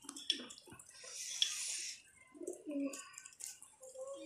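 Soft pigeon coos and bird calls sound close by as pigeons drink, with faint splashing of water and a few quiet chirps.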